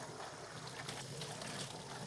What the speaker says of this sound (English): Now I'm going to go ahead and rinse it out with some warm water again.